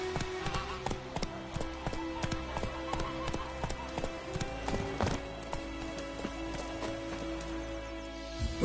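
Roach the horse galloping in The Witcher 3, with quick, rhythmic hoofbeats pounding close and loud throughout and a faint voice heard briefly.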